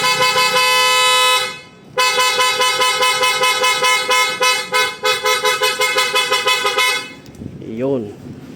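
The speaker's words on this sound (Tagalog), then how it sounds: "Ganon po kalakas ang isang original na PIAA Auto Style horn." A PIAA Auto Style car horn fitted to a Ford EcoSport blares loud and close in long sustained harmonic blasts: one extended honk, a brief gap, then a series of rapid pulsing toots, ending as voices talk.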